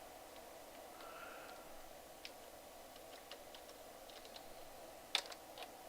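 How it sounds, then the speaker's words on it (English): Keys clicking on a worn computer keyboard whose bottom-row lettering has rubbed off, sparse irregular taps with one sharper clack near the end, faint over a steady room hum with no talking. "I can't find the B on my keyboard"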